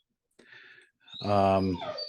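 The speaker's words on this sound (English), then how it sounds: "No barking. No barking." A dog close by gives a short breathy huff, then a drawn-out whining bark that trails off.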